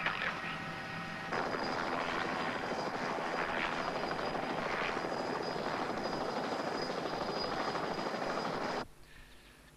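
A helicopter's rotor thuds and engine whine swell loud and steady as it lifts off, then the roar drops away abruptly.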